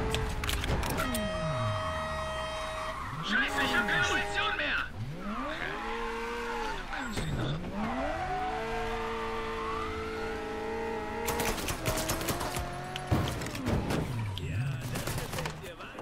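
Fast car driven hard in the video game Mafia III, engine whine rising and falling with tire squeal and skids, plus bursts of gunfire, loud and continuous throughout.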